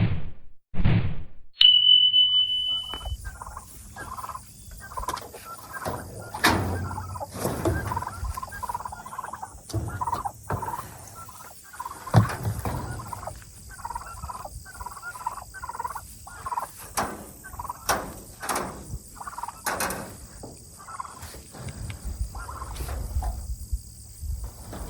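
Turkeys on a homestead gobble repeatedly at moderate distance over a steady bed of chirping crickets and insects, with a short ding near the start.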